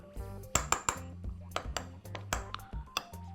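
A spoon clinks and taps repeatedly against a bowl while a vinegar paste is stirred, giving a series of sharp metallic pings at an uneven rhythm, close and fairly quiet.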